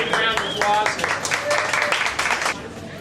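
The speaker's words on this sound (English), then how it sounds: "Okay, so a big round of applause." Marathon trainees at a 26-mile training run give a round of applause, a crowd of hands clapping steadily for a few seconds alongside a voice speaking.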